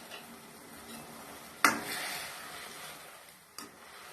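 Jaggery syrup is stirred with steamed kolukattai dumplings in a pan, a faint, soft scraping and bubbling with a couple of sharp spoon knocks against the pan.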